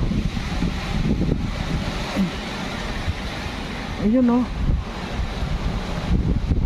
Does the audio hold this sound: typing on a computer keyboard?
no